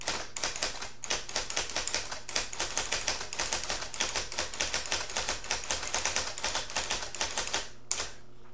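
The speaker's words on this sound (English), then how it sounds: "the first thing that I want to point out to you about this typewriter is the sound" Rapid, steady keystrokes on an IBM Selectric electric typewriter clatter up close for several seconds, a dense run of mechanical key strikes with a brief pause near the end.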